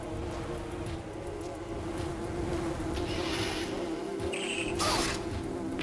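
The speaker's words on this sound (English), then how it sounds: "These are war wasps." War wasps in the Metroid Prime Hunters video game give off a steady, droning insect buzz that swells slightly toward the end, heard alone over a low background hum.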